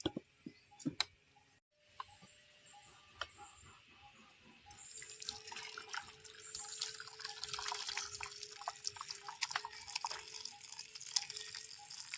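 Curdled milk strained through cloth pours and trickles steadily into a vessel, with drips and splashing that grow fuller and more continuous partway through.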